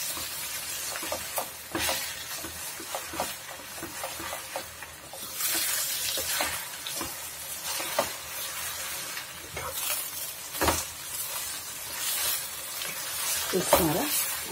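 Gongura leaves wilting in hot oil as they are stirred in a pan, producing continuous sizzling with intermittent scraping strokes and a few louder clatters.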